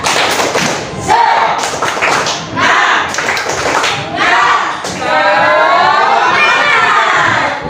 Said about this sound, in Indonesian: kita tepuk semangat, tepuk semangat